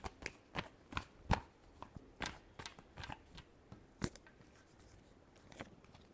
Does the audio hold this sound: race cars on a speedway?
no